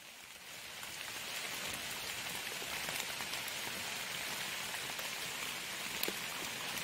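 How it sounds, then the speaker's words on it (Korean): Steady rain falls through a forest on a rainy mushroom hike, a soft, even hiss of drops on leaves and ground that stays constant throughout, with no talking. "비가 오니까는"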